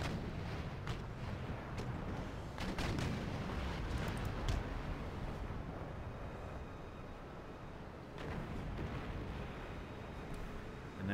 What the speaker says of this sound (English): And they fire their first shots in return.